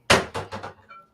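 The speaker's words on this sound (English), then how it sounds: "you can probably hear him slamming the cabinet doors in the background" Kitchen cabinet doors banging shut in quick succession, one heavy slam followed by three lighter thuds, moderately loud and slightly distant, with no speech over them.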